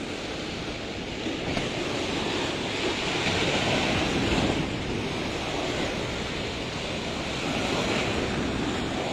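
Ocean waves surging against a damaged concrete breakwater beside a coastal village road, a continuous loud roar of surf mixed with wind buffeting the microphone.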